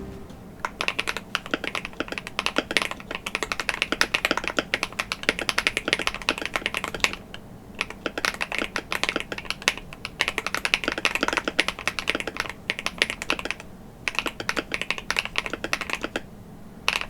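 Fast, continuous typing on a GMMK Pro mechanical keyboard fitted with Gateron Sea Salt switches, with close, crisp clacky keystrokes broken by a few short pauses and no talking.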